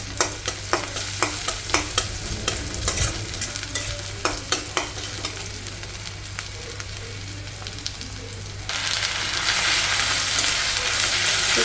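Onions frying in a pan for a ridge gourd curry, with repeated sharp stirring scrapes over a steady sizzle that grows louder and more hissing near the end; no talking.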